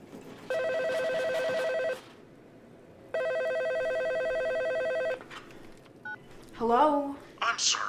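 Touch-tone telephone keypad being dialed in a suspense film scene, two clear bursts of steady DTMF beeps separated by a pause, followed by faint background sounds and a voice at the end.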